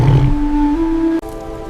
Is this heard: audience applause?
no